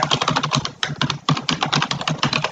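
Rapid, close computer keyboard typing, an even stream of crisp key clicks with brief pauses while a name is entered into an online form.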